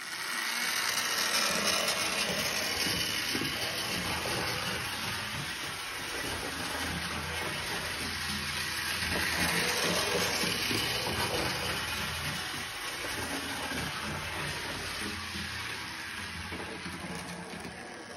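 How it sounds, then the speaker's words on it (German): A small Märklin electric motor and propeller on a model rail zeppelin whir steadily and continuously, a mechanical hum with slight rises and falls in loudness. "Wir machen uns jetzt nochmal den Propeller dazu an."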